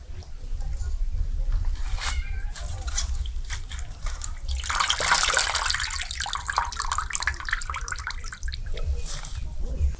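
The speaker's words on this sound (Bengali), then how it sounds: "ধনেপাতাগুলোকে এবারে 2-3 বার ভালো করে জল দিয়ে ধুয়ে নেব।" Coriander leaves get rinsed in water, a steady close wash of splashing and running water with a louder surge midway, a voice faintly audible beneath.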